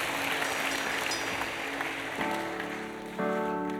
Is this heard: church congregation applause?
yes